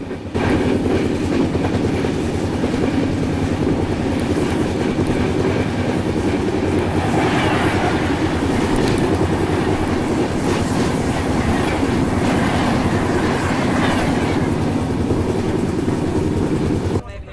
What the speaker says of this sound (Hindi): और सामने से आ रही है चेन्नई दुरंतो एक्सप्रेस।